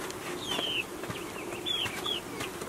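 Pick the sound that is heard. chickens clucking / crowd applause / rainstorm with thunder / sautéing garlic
chickens clucking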